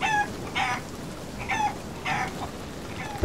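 Chicken clucking in the pirate video game Sea of Thieves, a string of short repeated clucks at an even pace with a soft rain-like hiss underneath and no talk.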